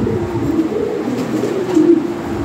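European Lahore pigeons coo softly and continuously nearby, a low throaty murmur with a slightly stronger swell near the end, and no one speaks.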